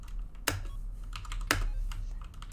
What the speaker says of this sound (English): I'm using a keyboard right now to join and play as player 2